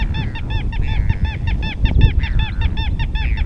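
Little gulls call near Hudson Bay at Churchill, Manitoba, a quick rhythmic string of nasal, slightly honking notes repeated a dozen or more times over wind and background noise.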